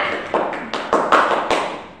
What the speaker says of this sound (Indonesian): Tepuk tangan untuk kelompok 1 karena sudah melakukan presentasi ke depan